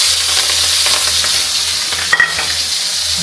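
Chopped green chillies fry in a hot wok with a loud, continuous sizzle and brief stirring scrapes, close up, with no talking.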